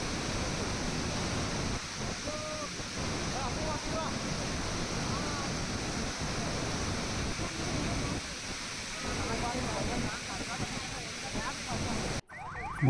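Water roars steadily through the opened gates of the Jurala dam, a dense, continuous rushing wash heard close, with voices talking faintly in places under the torrent.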